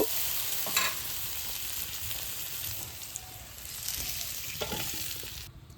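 Vegetables fry in oil in a pan for a silver carp dish, a soft, fairly quiet sizzle with occasional stirring scrapes and pops before cutting off abruptly.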